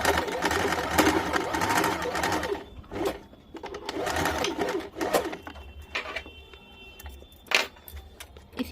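A domestic sewing machine stitches a blouse in short bursts of rapid mechanical whirring, separated by brief pauses, with light clicks and handling noises close by.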